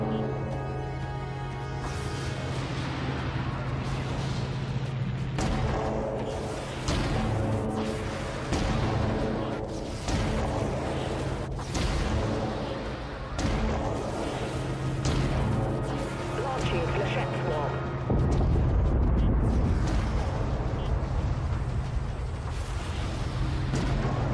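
Repeated bursts of gunfire and mechanical clacks in the game Dreadnought ring out over a steady low hum, dense and loud throughout.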